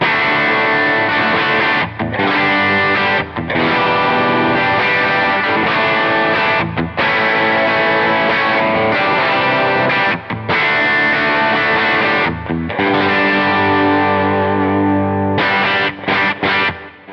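A Squier Classic Vibe Jazzmaster electric guitar runs through a Jan Ray overdrive pedal, strumming loud, gritty driven chords in sustained bursts with short gaps between phrases and no talking.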